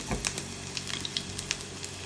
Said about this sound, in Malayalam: പിന്നെ കടുക് വറുത്ത് ചേർത്തു.